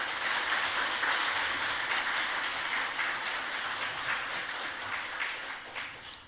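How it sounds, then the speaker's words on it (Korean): Warm, sustained applause from a church congregation welcoming the pastor to the pulpit at a Sunday service, dense and steady throughout before slowly tapering off at the end. "크게 박수로 환영해 주시기 바랍니다"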